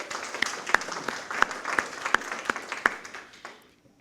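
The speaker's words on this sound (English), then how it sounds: "so let's all give them a round of applause." Sparse, fairly quiet clapping from a small group at a Kiwanis club meeting, individual claps distinct and uneven for about three seconds before fading out.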